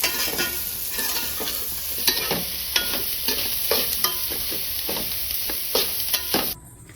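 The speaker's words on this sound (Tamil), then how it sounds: "தேங்காய் சேர்த்து விட்டு ஒரு நிமிஷம் நல்லா வதக்கிட்டு ஸ்டவ் ஆஃப் பண்ணிக்கலாம்." Grated coconut being sautéed in a pan for fish curry, a continuous sizzle broken by repeated scraping stirs of a spoon every half second or so, close and steady until it cuts off near the end.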